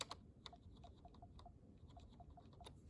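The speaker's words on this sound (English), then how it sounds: "if I tap the keyboard" Soft, quiet taps on the keyboard of a 2010 MacBook come in an irregular series of light clicks, close and faint against a quiet room, with no talking.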